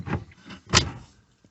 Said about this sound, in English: Let's put this door back.